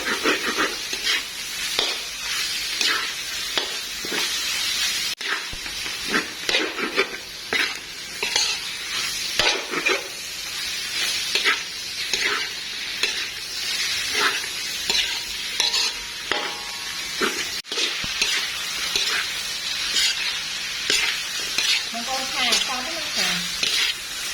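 Pork stir-fries in a hot pan, loud continuous sizzling and hissing broken by repeated scraping strokes of a spatula against the metal, close up, with a little talk in the background.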